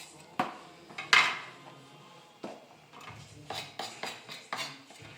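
Chopped ingredients and onion tipped into a shared bowl while cooking rougail saucisse, with several sharp clinks and scrapes of utensils against dishes, close by and irregular, in a quiet kitchen.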